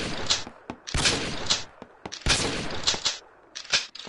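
Shotgun blasts in the VR shooting game Gun Club VR, several loud close reports in irregular succession with short gaps and a quick follow-up shot near the end.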